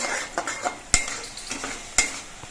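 Spices with salt and turmeric stirred in a hot pan, a soft sizzle under repeated scraping strokes and two sharp metallic clacks of a spoon against the pan, close and without talk.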